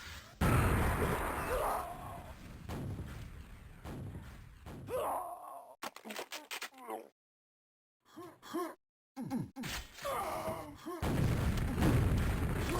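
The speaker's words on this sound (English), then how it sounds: "Big rocket to the face there for Flash." A rocket explosion in a QuakeWorld deathmatch, heard as loud booming blasts at the start and again near the end, separated by a stretch of quieter game sounds and short gaps of silence.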